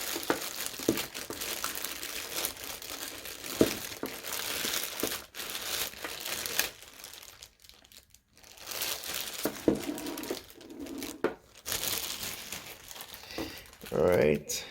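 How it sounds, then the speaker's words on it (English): An official Nintendo GameCube controller is unwrapped from its packaging with loud, close crinkling and rustling in uneven bursts, briefly pausing, while a person talks over it. "unwrap the GameCube controller without dropping it"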